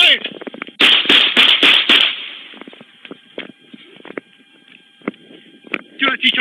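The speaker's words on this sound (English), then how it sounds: "Two-19, shot fired, shot fired!" Shots ring out during a police pursuit that ends in a deadly officer-involved shooting: a rapid burst of several sharp, loud bangs, followed by fainter scattered cracks and a few more close reports near the end.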